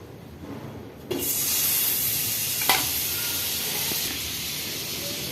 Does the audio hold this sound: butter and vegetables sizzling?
yes